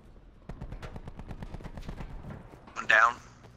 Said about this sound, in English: just saw gunfire down here